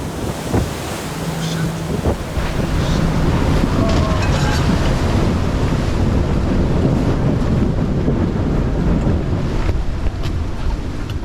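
Strong wind buffets a sailboat crossing the North Sea, roaring continuously over the microphone while waves wash and slap against the hull, with a short voice near the start.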